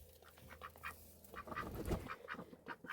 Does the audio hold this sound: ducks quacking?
yes